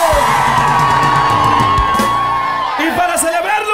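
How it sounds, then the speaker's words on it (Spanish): A live norteño concert crowd at a Stockton venue yells, whoops and shouts loudly and continuously, with cheering rising and breaking up near the end. "queremos que se escuche un pinche grito bien chingón"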